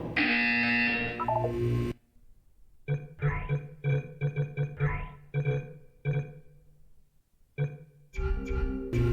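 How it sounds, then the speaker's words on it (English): Buzzer sounds in the Portal 2 video game: a series of short, loud electronic tonal blasts in an irregular stuttering pattern, bracketed by louder musical sounds at the start and end. "When you hear the buzzer, look down at the floor."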